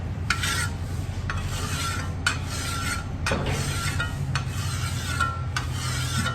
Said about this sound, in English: Now I've switched to a finer double cut file, so I'm getting a smoother cut